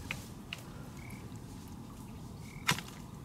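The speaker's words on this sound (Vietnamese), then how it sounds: "Ếch còn đó không Giang?" Frogs in a flooded field during the flood season, with a few faint croaks scattered over steady outdoor background noise and one sharper, louder croak near the end.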